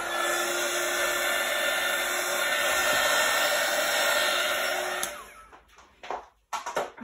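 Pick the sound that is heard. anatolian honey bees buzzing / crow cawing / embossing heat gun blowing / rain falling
embossing heat gun blowing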